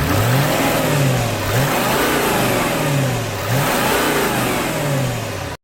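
An Audi A8 D3 4.2 TDI diesel engine revs repeatedly, rising and falling in pitch several times, loud and close with a steady diesel rumble between the bursts.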